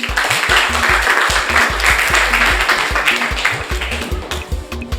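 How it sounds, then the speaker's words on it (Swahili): A classroom of pupils applauding a classmate, loud rhythmic group clapping that carries on steadily for several seconds with no talk. "Mpigeni makofi."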